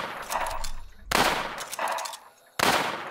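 Gunfire from shooting a zombie in the survival game Infestation, with two sharp loud onsets of rapid fire trailing off, against game background noise.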